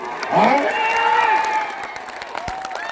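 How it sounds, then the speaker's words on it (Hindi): Crowd at an outdoor political rally in Parbhani, loud and sustained for most of the stretch, with clapping and cheering under rising whistles or whoops, thinning out toward the end. "अरे दबा के ताली बजाओ"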